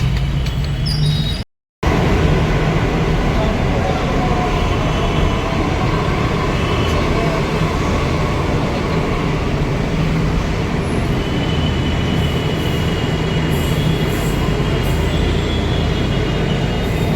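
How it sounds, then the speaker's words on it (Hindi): A metro train rumbles along continuously, a loud steady roar of wheels on track with faint squeals and clatter, heard from inside the car. "मेट्रो पहुँच गए हैं, मेट्रो पकड़ते हैं।"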